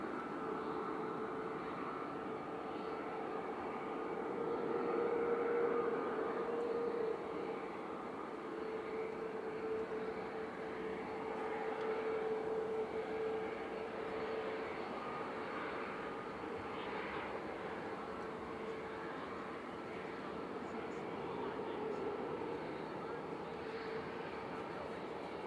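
A SunExpress airliner taxiing out for departure at Manchester Airport, a steady, moderately distant engine whine and rumble that holds evenly throughout with no clear rise to takeoff power.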